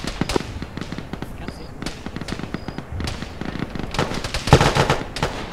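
Mortar rounds fire in a military video game as a series of sharp, booming thumps, a few of them spaced apart and then a louder cluster near the end, with radio chatter running underneath.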